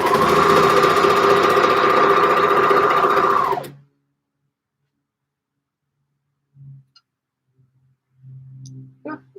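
A sewing machine stitches knit fabric in one loud, steady whirring run that stops abruptly, followed by near silence and a few faint bumps and rustles.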